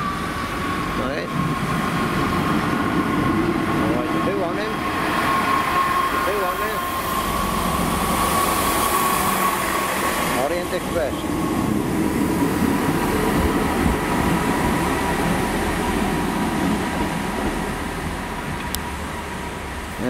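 A train rumbling past on the Rhymney line in Cardiff for a long stretch, with steady roaring wheel noise and metallic squeals, loud and close.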